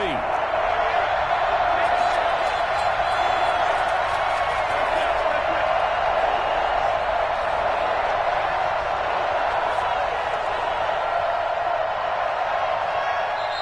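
Steady roar of a stadium crowd at a fourth-quarter, third-down moment of a close Seattle versus Miami football game, a dense, unbroken wall of noise with a commentator speaking over it.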